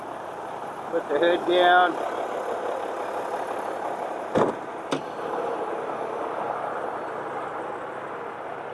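Crane truck engine idling steadily, a low even rumble running throughout at moderate distance, with a person speaking briefly over it and a couple of sharp knocks midway.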